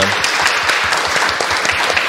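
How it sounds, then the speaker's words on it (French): An audience claps in a dense, sustained round of applause close by, fairly loud and unbroken, with a few faint voices beneath it. "qu'on leur fasse encore un tonnerre d'applaudissements"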